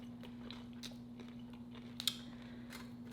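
Crunchy homemade taco bitten into, with a few soft crisp crunches and one sharper crack near the middle, close up over a steady low hum.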